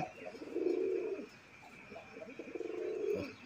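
A large sky-blue Rajgolla pigeon coos close by, two drawn-out throaty coo phrases separated by a brief pause over quiet background.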